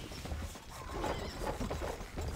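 In the video game Stronghold: Crusader, rhythmic clip-clop of hooves at a gallop with a horse whinnying over it, busy and close, with some mechanical clatter in the background.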